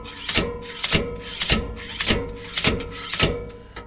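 A seal remover works on a GM 10 bolt axle seal, producing about seven rhythmic scraping, prying strokes at an even pace, moderately close, with no talk.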